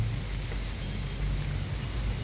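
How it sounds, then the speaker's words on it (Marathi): Heavy monsoon rain falling during a bike ride near Pune: a dense, steady, unbroken roar of rain across the whole stretch, loud and close, with no voices. "आणि पुढे खूपच मोठा पाऊस यायला लागलेला."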